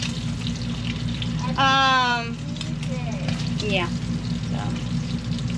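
Bacon and sausage fry in a pan as Thanksgiving meal prep, giving a steady, close sizzling hiss that runs throughout, with a brief spoken word and a few short tonal sounds over it.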